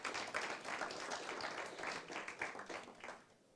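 A church congregation claps in steady, dense applause that fills the room at a Spanish-language service, fading slightly toward the end.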